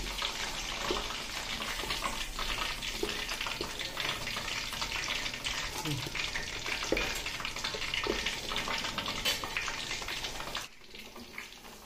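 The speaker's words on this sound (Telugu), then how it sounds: "ఇంకా మిగతాయి కూడా అన్ని మునక్కాయలు అలాగే వేయించుకుంటాను." Moringa drumstick pieces fry in a pan with a dense, continuous close sizzle and faint stirring scrapes, stopping abruptly near the end with no talk.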